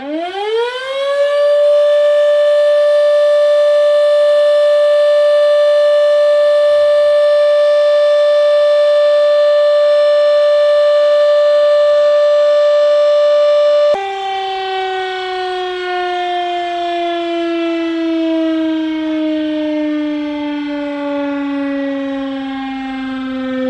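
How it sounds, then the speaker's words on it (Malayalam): A loud civil-defense siren, newly installed in Kerala to sound the hours, winds up and holds a steady wailing tone for a long stretch, then its pitch slowly sinks as it begins winding down. "ഇതാണ് നമ്മുടെ ഇന്നലെ ഉദ്ഘാടനം ചെയ്ത സായറിന് ഇപ്പോൾ ഏത് നിമിഷം വേണമെങ്കിലും അടിക്കാം"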